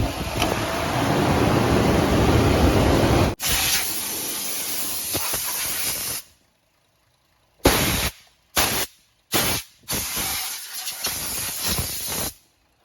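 A leaking AC compressor hisses loudly and steadily, then stops; after a silent gap several short hissing bursts follow in quick succession, with no voices.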